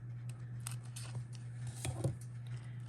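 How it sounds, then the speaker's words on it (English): Scissors snipping dimensional adhesive foam into small pieces for a handstamped card, a few short close cuts over a steady low hum. "So I just take and cut the corners, the edging, just like that,"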